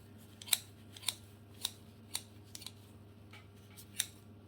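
Scissors snipping through dried herbs being cut finer for a loose-leaf tea blend; about eight crisp, close snips at an uneven pace, alone over a low steady hum.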